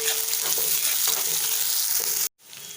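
Chopped onion sautés in hot oil with fennel and curry leaves for a restaurant-style egg gravy, giving a loud, constant sizzle with a few stirring scrapes before the sound cuts off abruptly near the end.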